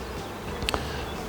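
Carpathian honey bees buzz in a steady, close drone, with a couple of brief clicks partway through.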